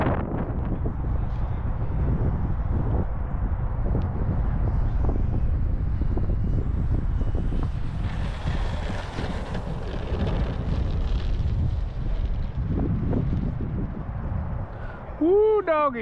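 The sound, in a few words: wind blowing on microphone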